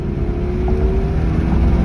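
A manual Audi's engine revs hard and close during a late-night downshift, a sustained loud roar that rises in pitch over about two seconds.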